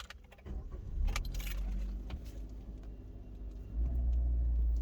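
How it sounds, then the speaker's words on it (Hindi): A 2022 Maruti Suzuki Brezza VXi starting up from the cabin, keys jangling and clicking before the engine catches into a low steady idle rumble that rises slightly toward the end, with no voices. "आइए गाड़ी को स्टार्ट करके देखते हैं।"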